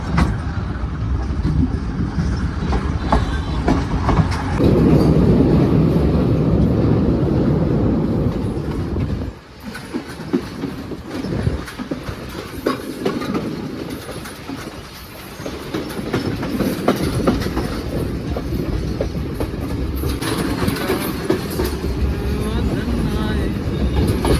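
A train rides out of Colombo, Sri Lanka, with a continuous rolling rumble and rhythmic clickety-clack of the wheels throughout, and a voice speaking over it at times.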